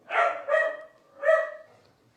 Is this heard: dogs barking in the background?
yes